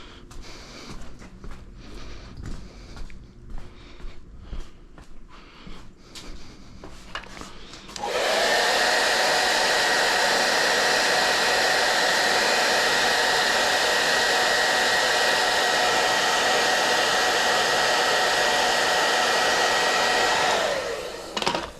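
A VHT Micro Hone vapor blaster polishing a part: handling clatter comes first, then a loud, steady hissing blast runs unbroken for about thirteen seconds before it cuts off.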